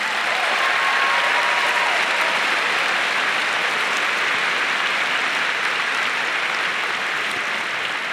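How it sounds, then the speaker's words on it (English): A large crowd at a Liberty University convocation gives sustained, loud applause, a thick unbroken wash of clapping that holds steady throughout. "Would you give them a round of applause?"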